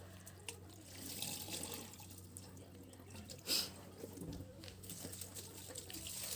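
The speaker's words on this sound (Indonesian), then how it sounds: "Nah ini beras aku cuci selama 3 kali ya biasanya kalau aku" Rice being washed by hand under a running kitchen tap, rinsed three times in a pot: steady close splashing and trickling water with a brief louder swish midway, no voices.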